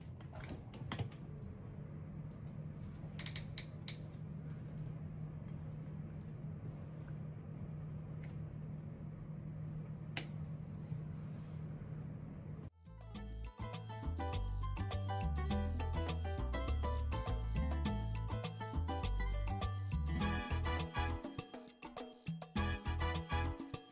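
A sewing machine runs steadily, top stitching bias tape close to the fabric edge, its rapid mechanical stitching loud and continuous after a quieter hum with a few small clicks.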